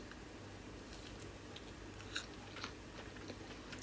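Keto pizza being bitten and chewed close up, soft faint mouth crunches and squishy chewing over a quiet steady room hum, with no talking.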